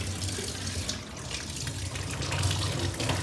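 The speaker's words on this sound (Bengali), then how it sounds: "এখন লিচুগুলো ধুয়ে নিচ্ছি, জল দিয়ে ভালো করে" Lychees washed under running tap water, a steady close splashing and gushing stream into a sink that keeps going without a break.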